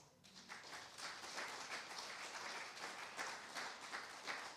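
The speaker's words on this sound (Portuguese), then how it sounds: "então me quer um aplauso para Deus" A church congregation claps for God during a service, a dense, even wash of applause that holds steady from start to finish, faint and distant, with no talk over it.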